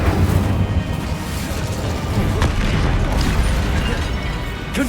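An Incendio fire spell cast in Hogwarts Legacy, a sustained heavy rumbling roar with bursts and sharp crackling pops scattered across several seconds, loud and close.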